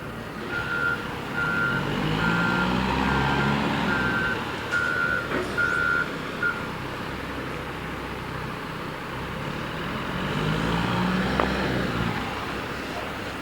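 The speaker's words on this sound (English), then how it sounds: "I find the sounds of a concrete yard very soothing, very relaxing." Trucks rumble and idle in a concrete yard while a reversing truck sounds a steady series of high electronic beeps, with a broad engine drone and occasional clanks throughout.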